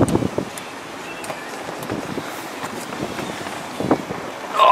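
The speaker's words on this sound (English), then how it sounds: "Oh, it's windy." Gusty wind buffets the microphone in low rumbling bursts around a 2013 Audi Q5, with faint rustling and a few knocks, and no voices.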